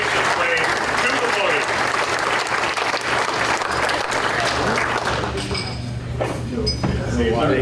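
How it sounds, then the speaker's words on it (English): A hall audience gives sustained applause for the district governor at a Rotary club centennial evening in Wisconsin Rapids, with dense, steady clapping throughout and a few light clinks mixed in. "So let's give Bill a round of applause as he makes his way to the"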